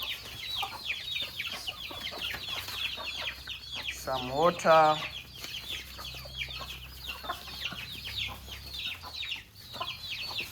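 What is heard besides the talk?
chickens clucking in their new coop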